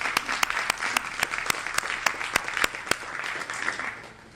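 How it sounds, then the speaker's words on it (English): An audience at a North Carolina HBCU equity gathering bursts into sustained applause for standing HBCU graduates: dense, close clapping with sharp individual claps popping through, steady throughout and easing slightly toward the end. "Give them a round of applause."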